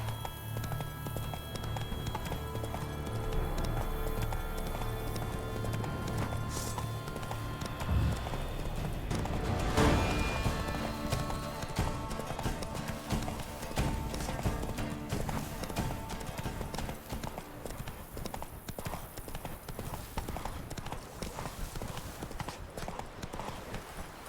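Hooves of the horse Roach galloping in The Witcher 3 in a rapid, steady clip-clop that runs throughout, with a louder thump near the middle and a faint voice briefly over the hoofbeats.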